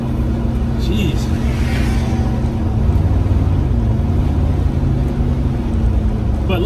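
Interior drone of a 1972 Ford LTD being driven, a steady low engine and road hum that holds at an even level throughout, with some tonal shifts as it moves.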